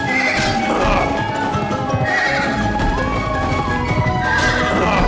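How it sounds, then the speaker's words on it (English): A pony in the game Pumpkin Jack neighs and whinnies while its hooves clip-clop steadily during a ride, over continuous classical music. "This is where we get our final pony ride of the level"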